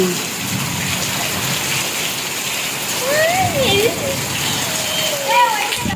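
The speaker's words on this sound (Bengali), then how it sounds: "কি বৃষ্টি হেভি" Heavy rain falling at a rural home pours down as a loud, steady hiss across the whole stretch, while voices are heard faintly over it.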